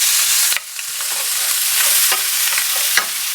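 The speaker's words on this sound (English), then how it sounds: "that's where we're going to fry or saute the onions and the garlic and the cilantro" Onions, garlic and cilantro sauté in leftover grease for a Brazilian feijoada, a steady close sizzle with scraping stir strokes across the pan.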